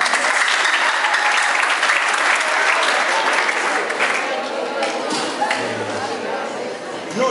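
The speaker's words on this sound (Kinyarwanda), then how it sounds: "Ese mwahaye amashyi kwiga" Audience applause, loud and sustained dense clapping from a crowd that gradually thins toward the end, with some chatter mixed in.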